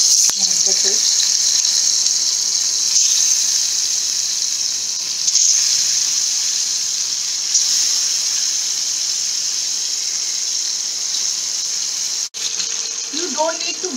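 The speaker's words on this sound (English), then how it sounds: "We have to shallow fry the fish." Fish shallow frying in hot oil in a kadai gives a steady, loud hiss and sizzle that runs without a break, with brief crackles near the start and end.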